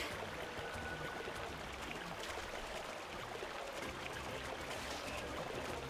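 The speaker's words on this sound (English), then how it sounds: "The sounds of the water even sound swampy, if you know what I mean" Swampy water ambience from the video game Xenoblade Chronicles X, a steady broadband wash of trickling, bubbling water that stays even and fairly quiet throughout, with no talking.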